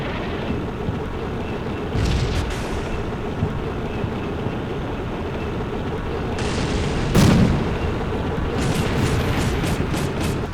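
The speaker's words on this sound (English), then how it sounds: "Roger, firing round out." An artillery round fires in the video game Combat Mission Black Sea, a single deep boom standing out about midway through a steady rumbling battlefield background, with a few sharper bursts before and after.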